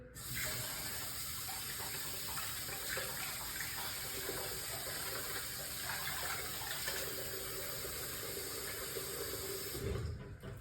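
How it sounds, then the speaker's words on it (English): A tap running steadily while someone rinses their face, a close, continuous hiss of flowing water with a slight change in tone as the stream is used, with no talk. "I wet it and I like rinse it off basically"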